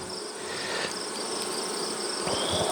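Insect buzzing fills the air at an open honeybee hive during a frame inspection, a steady close hum with high whine bands, continuous and fairly even throughout, with no talking.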